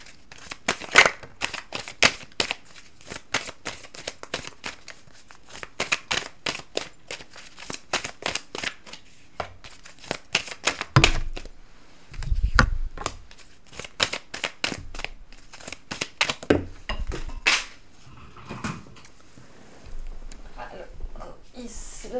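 Tarot cards are gathered and handled on a table, giving sharp repeated clicks and flicks with short shuffling runs, while a person talks throughout.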